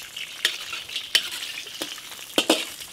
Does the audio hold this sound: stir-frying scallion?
yes